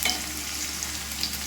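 Capsicum and paneer curry ingredients frying in a pan give a steady, close sizzling hiss with light stirring noises, continuous and even throughout.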